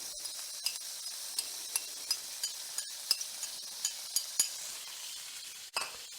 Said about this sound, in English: we're going to add our freeze-dried onions